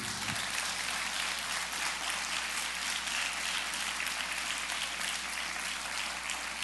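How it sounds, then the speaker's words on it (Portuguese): A church congregation claps for Jesus in a dense, sustained round of applause, many hands at once, steady and filling the room, with no talking over it. "Se você crê, dê uma salva de palmas para Jesus."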